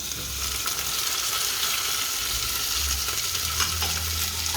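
Greens called hohos and tomatoes sizzle steadily in a pan with onions for a kidney and mushroom stew, a constant close hiss of frying with no break and no talk.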